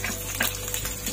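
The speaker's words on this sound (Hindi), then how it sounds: "तो ये तेल गरम हो चुका है, अब हम इसमें डालेंगे कटी हुई लहसुन" Chopped garlic fries in hot refined oil in a pan, giving a steady close sizzle with faint stirring scrapes and no talk.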